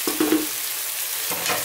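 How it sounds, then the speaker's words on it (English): Vegetables for an Indian-style winter dish saute in a pan over medium heat, a soft steady sizzle broken by brief scraping stirs at the start and again near the end. "this is sauteing really nicely"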